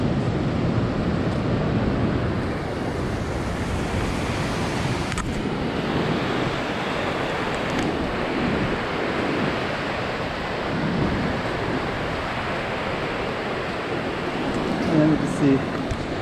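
Ocean surf rolling onto the wide sand of Batu Bolong beach in Canggu, Bali, a continuous broad wash of breaking waves with wind, steady and full from start to finish without any voices.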